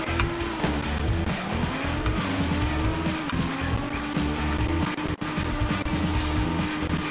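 A car drifts in CarX Drift Racing, played with an Xbox controller, with a sustained engine whine that rises and falls and a long, loud tire squeal under it, alone and close.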